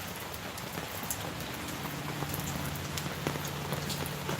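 Steady rain falling outdoors, a close, dense hiss of drops striking surfaces with scattered louder patters and a faint low hum underneath.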